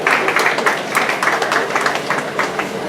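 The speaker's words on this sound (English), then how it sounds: "A round of applause for him." Scattered crowd clapping at an International Youth Day celebration in Ifako-Ijaiye, Nigeria, a steady patter of hands lasting a few seconds at moderate loudness.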